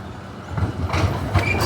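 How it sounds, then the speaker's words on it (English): A Melbourne Z class tram arrives at a terminus, its steel wheels rumbling and clicking over rail joints with brief squeals, loud and close throughout. "Here's the tram. It's a Z class actually"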